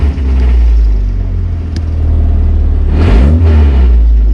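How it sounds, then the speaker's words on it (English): A Mazda Miata engine idles loudly and is given gas, its steady low drone swelling into a rev with a rising whine from a worn clutch release bearing, close and alone without talk. "So look, I'll give it some gas right now."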